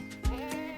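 A rescued goat bleats close by in a single wavering cry, with brief thumps at its start and end.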